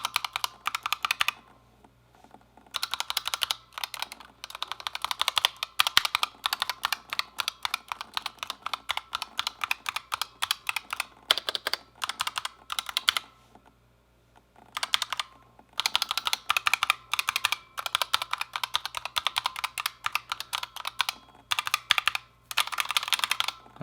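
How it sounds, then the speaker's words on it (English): Typing on a keyboard fitted with Razer PBT keycaps: crisp, close clacking in quick, uneven bursts with brief pauses between runs, and no talking. "I will test a little bit of the sound. So these are the PBT caps."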